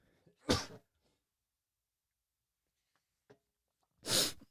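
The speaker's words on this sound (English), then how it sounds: "Sorry, I'm going to sneeze real quick." Two loud sneezes a few seconds apart, close to the microphone, with a faint sniff or small noise between them.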